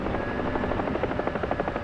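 A Huey helicopter in autorotation over snow gives a loud, close, continuous rotor thump with a rapid rhythmic beat and a steady engine whine throughout, with no speech.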